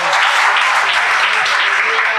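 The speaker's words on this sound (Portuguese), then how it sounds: "aplaudir mais uma vez o Senhor." A church congregation applauds during a Sunday service, a steady wash of clapping over the whole stretch with some voices mixed in.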